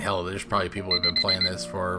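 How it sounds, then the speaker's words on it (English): A game alarm clock timer in Planet Coaster beeps in a quick run of short repeated tones under someone talking over it. "Seriously? That's the alarm?"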